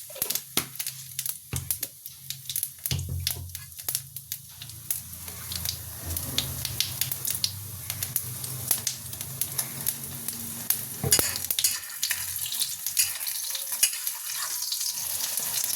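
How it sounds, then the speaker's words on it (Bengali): An egg omelette fries in a pan, a continuous sizzling hiss broken by frequent clicks, scrapes and stirring taps, growing denser and louder in the second half. "এই যে এদিকটা দেখো অমলেট ভাজছে"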